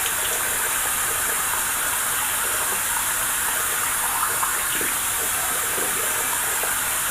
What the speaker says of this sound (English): And wet that face down.